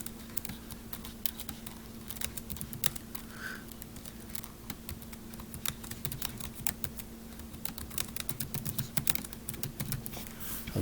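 Rapid, uneven clicking of a computer keyboard as code is typed, close and fairly quiet, with bursts of keystrokes continuing throughout and no talking.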